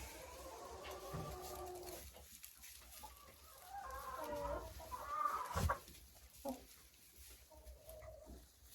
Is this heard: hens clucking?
yes